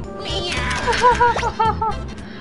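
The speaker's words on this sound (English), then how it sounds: "Please, Meowth. Be silly" Meowth's cry in the Pokemon Snap video game, a series of short nasal, cat-like meows rising and falling close up, with a person talking over them.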